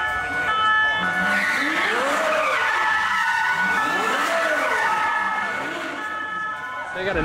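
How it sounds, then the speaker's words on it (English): Tires squeal and skid in long sweeping arcs as a car does donuts at a Gumball 3000 Rally pitstop in Atlanta, a siren wailing over the engine's roar, with crowd noise in the background. "these guys are sitting there doing donuts with their siren going"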